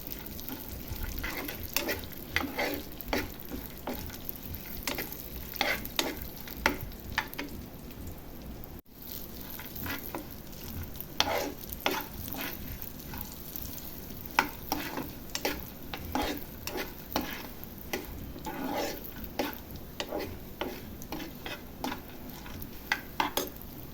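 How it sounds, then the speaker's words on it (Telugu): Dry fruits being fried and stirred in a pan, a steady close sizzle broken by frequent scraping and clinking of a spatula against the metal, with irregular rhythmic stirring strokes and no talking. "చక్కగా వేయించుకుందాం వీటిని ఇప్పుడు."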